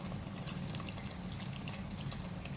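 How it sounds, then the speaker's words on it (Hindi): A quarter cup of water pours into a pot of mixed vegetables for a restaurant-style veg handi, making a continuous close splashing gush that lasts the whole stretch, with no talking. "पानी डालूंगी इसमें 1/4 कप।"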